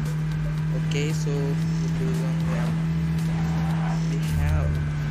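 A car's engine drones steadily in the mobile battle royale game PUBG: New State, with a constant low hum running beneath someone talking over the gameplay.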